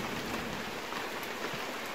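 Steady rain falls outdoors around a fallen beehive, a dense even hiss of drops on surfaces that fills the whole stretch with no talk.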